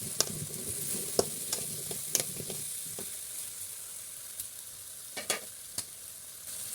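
Country chicken with chili powder and turmeric sizzles softly in a pan as a spoon stirs it, clustered scraping clicks early on, then a quieter hiss with a few more taps.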